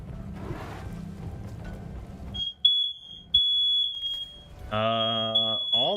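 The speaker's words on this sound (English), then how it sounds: "All the smoke alarms in my house are going off currently." Several household smoke alarms shriek at once, piercing steady high beeps starting and stopping in overlapping bursts, loud and near, joined by a harsher multi-tone alarm blaring at the end.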